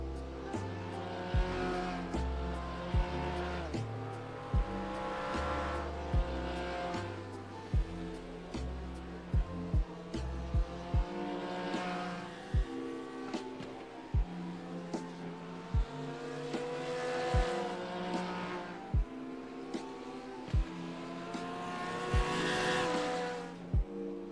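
Onboard a Lamborghini race car at the Bathurst 12 Hour, the engine revs hard through repeated gear changes, rising and dropping steadily with sharp shift cracks, loud and close throughout.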